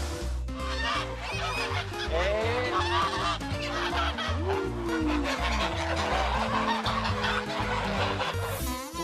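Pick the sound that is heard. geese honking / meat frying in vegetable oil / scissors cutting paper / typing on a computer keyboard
geese honking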